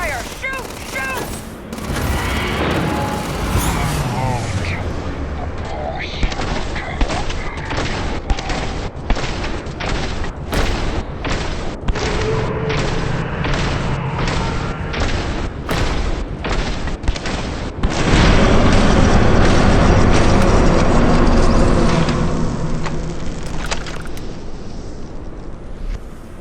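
Loud, close sci-fi gunfire rattles in rapid bursts and single cracks during a Starfield firefight, with heavy explosive booms thickening the din near the end before it fades.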